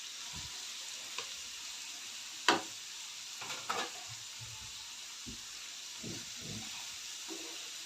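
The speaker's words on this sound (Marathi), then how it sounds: "कोबी घालून चांगलं परतून घेऊया" Chopped cabbage with garlic sautés in a pan, a soft continuous sizzle and hiss broken by a few scattered scrapes and clinks of stirring, quiet and close.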